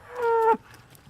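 A dairy cow gives a single loud, close moo of about half a second that ends abruptly, followed by quiet.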